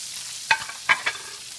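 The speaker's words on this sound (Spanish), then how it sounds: "Vamos a poner nuestra cebolla y nuestro pimiento." Onion and bell pepper hit a hot pan for a fish sauce, giving a few quick, close sizzling hisses and clatters in a short burst with no speech.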